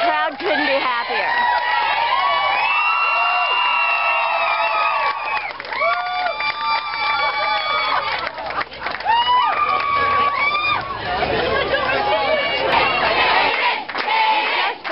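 A dense, excited crowd surges around Cayden, overlapping shouts, whoops and chatter rising and falling in waves, with clapping and rising cheers near the end.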